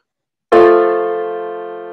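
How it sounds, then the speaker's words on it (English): A 7/6 suspension chord embellishing a first-inversion triad in a music-theory example: one chord struck cleanly after brief silence, ringing loud and sustained as it slowly fades, with no voices. "So there's also a 7/6 suspension that embellishes first inversion triads"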